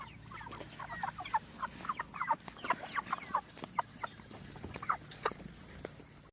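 Cornish Cross chickens on a homestead clucking in a busy, overlapping stream of short calls, close and moderately loud, with no talk over them.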